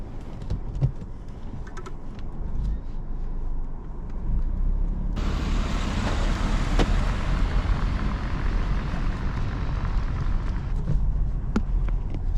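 A 2018 Peugeot 3008 drives along with a steady low road and engine rumble inside the cabin, a few clicks and taps from the interior, and noise that grows louder partway through.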